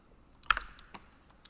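A computer keyboard typed on during a Fortnite RTX benchmark PC session: a close cluster of sharp keystroke clicks mid-clip, then a few scattered single taps, with no talking.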